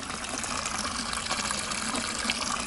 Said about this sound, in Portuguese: e temos aqui a fonte, olha aí a fonte.